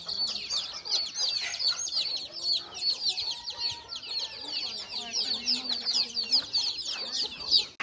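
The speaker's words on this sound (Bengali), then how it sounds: "বাইরেও আছে মুরগি" Chickens at a village home cluck and chirp steadily with overlapping calls, mixed with other birds, and faint voices can be heard in the background.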